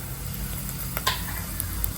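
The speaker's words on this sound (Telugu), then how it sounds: "ఆయిల్ వేడెక్కింది, ఇప్పుడు ఇందులో పోపు దినుసులు వేసుకుందాం" Whole tempering spices and dry red chillies hit hot oil, giving a steady, close sizzle with a few sharp crackles and pops scattered through it.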